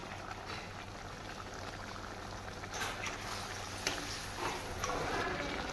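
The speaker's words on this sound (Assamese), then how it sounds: "এইফালে ধুনীয়াকৈ মাংস উতলি আছে" Local chicken meat boiling in a pot, a steady bubbling simmer heard up close with occasional louder pops and splutters.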